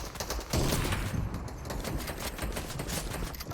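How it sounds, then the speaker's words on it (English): Rapid bursts of gunfire in a Fortnite match, dense and continuous throughout, loud and close with overlapping shots and no talking. "he hears us shooting above him"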